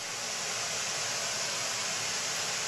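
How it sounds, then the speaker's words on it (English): Steady pink noise plays from a loudspeaker and is picked up by two overhead microphones, a constant, even hiss that stays loud and unchanging throughout, with no talking. "both overhead mics listening to that pink noise coming out of that speaker"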